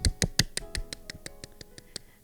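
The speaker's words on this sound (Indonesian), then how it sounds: "Tepuk tangan yang meriah buat Tuhan Yesus." Children clapping at a kids' church service, a run of about a dozen sharp claps that starts loud and fast and then thins out and fades over a couple of seconds.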